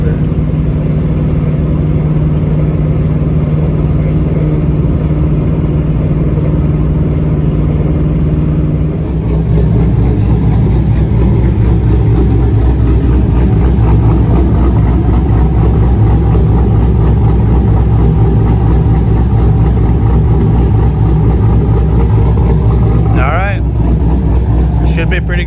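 A rebuilt engine in a 1998 Trans Am Formula with true dual exhaust runs loud and close, a steady idle that rises to a fuller, higher roar partway through, with a brief shift in pitch near the end.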